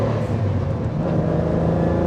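A Renault Clio V6 sports hatchback with its engine running steady and rough, a dense, loud mechanical drone that stays constant throughout with no talk.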